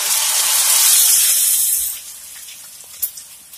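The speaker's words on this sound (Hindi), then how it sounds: "इसमें हम ये नूडल्स को इस तरह से डालेंगे।" Noodles slide into medium-hot oil in a pan, setting off a loud, bright frying hiss that swells at once and then eases after a couple of seconds, leaving a softer sizzle with a small clatter near the end.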